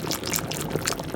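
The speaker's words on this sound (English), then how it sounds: "Then we're going to come in with our coconut milk" Coconut milk pours steadily into a pot of corned beef and pig's tail soup with gungo peas, a continuous close splashing trickle with no talk.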